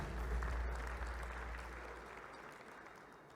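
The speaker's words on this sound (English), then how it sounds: "One more round of applause for the winner of this category" An audience at an awards ceremony claps for a category winner, a faint and distant round of applause that slowly dies down.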